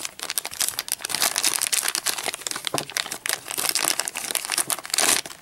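Plastic Disney Frozen Tsum Tsum mystery blind bags are cut open and handled, giving close, continuous crinkling and crumpling with irregular rustling bursts throughout.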